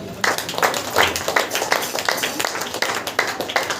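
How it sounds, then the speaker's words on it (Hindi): A church congregation claps in rhythmic unison during a Hindi prayer meeting, a brisk, steady beat of many hands that is fairly close and continuous. "ताली बजाकर"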